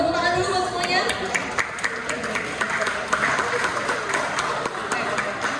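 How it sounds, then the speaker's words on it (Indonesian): An audience at a communication workshop session claps throughout, with sharp individual claps over a crowd murmur while voices chatter. "Stop dulu, tepuk tangan dulu buat semuanya."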